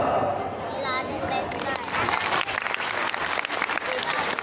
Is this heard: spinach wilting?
no